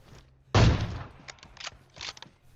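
Gunfire in the mobile battle royale game PUBG Mobile: one loud, sharp shot burst followed by a few quieter, scattered reports fading over a couple of seconds, with no talking.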